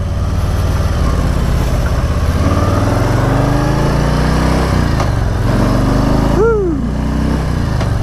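A 2024 Harley-Davidson Softail Standard motorcycle engine drones loudly and continuously up close while riding, its pitch rising and dropping through gear shifts, with a brief shout of excitement from the rider.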